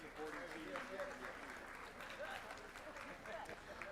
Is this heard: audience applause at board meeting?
yes